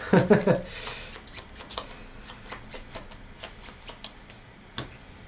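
Cards being shuffled during a solo game of Viscounts of the West Kingdom, a quick riffling burst at the start followed by a run of light, evenly spaced card taps and flicks, close and fairly quiet.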